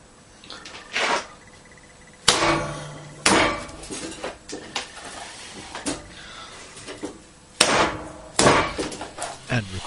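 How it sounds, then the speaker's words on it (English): Clay being wedged by cutting and slamming, a lump sliced and thrown down repeatedly to build up layers; several sharp, loud thuds arrive at irregular intervals with quieter handling noise in between. "Each cut and slam doubles the number of layers in the lump"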